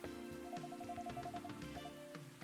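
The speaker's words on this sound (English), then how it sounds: "It's pouring rain again." Steady heavy rain pours onto a surface in the background of a dubbed visual-novel game, with a dense continuous patter and faint musical tones over it.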